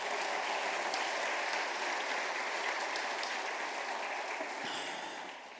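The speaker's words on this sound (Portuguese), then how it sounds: "Dê um aplauso a ele" A congregation applauds during a church sermon, with dense, even clapping that stays steady and then fades slightly near the end.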